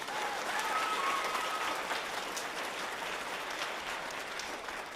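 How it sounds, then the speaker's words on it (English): Audience applause at an ISU Children's Chorus concert: a steady wash of clapping from a seated crowd, fairly distant and even, lasting the whole stretch without fading. "Give her a big round of applause."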